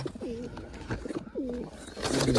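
Pigeons coo inside a coop, with two distinct rolling coos about a second apart, close and moderately loud over a rustling, busy background.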